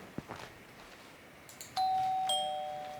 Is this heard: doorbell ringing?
yes